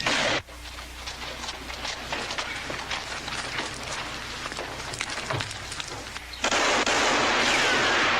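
Gunfire in a 1971 western film, heard as a sustained rattle of shots and crackling bursts that cut in and out abruptly, loud and close, with no voices.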